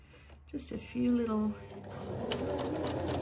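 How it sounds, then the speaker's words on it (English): A sewing machine stitches around patchwork fabric scraps pinned in place, its motor humming in a steady run after a short spoken comment, loud and close. "I'm embarrassed to be showing me doing anything on a sewing machine"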